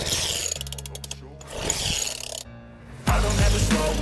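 A cheap Amazon dirt bike's small gas engine rattles and buzzes as it is started, then drops out and catches again before loud music cuts in over it.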